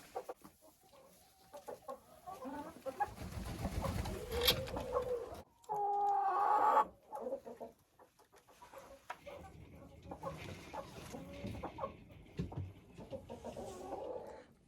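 Hens in a warm indoor coop at a country house keep up a near, steady clucking and murmuring, with one louder drawn-out squawk partway through.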